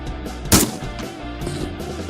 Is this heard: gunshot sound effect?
yes